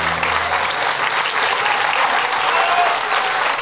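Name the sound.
audience applause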